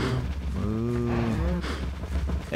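Several cows moo in the video game Minecraft, long low bellowing calls overlapping one another, loud and close, with a steady hum beneath.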